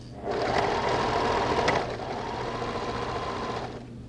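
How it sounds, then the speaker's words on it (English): A sewing machine runs a continuous seam through knit dress fabric, one steady whirring stitch run of about three and a half seconds with a slight shift in pace midway, close and alone. "when you get to the round bit, you want to actually reduce the stitch length a bit so that it's really nice and small stitches"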